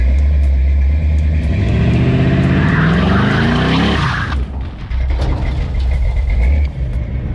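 A 1984 Chevy C10 pickup truck on its first drive, engine roaring loudly and close with rising and falling revs as it accelerates and shifts, then settling into a steady drone.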